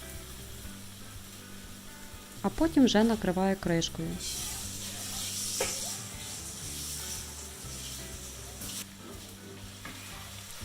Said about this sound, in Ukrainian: Спочатку дві хвилинки обсмажую без кришки, щоб вийшла вся зайва волога.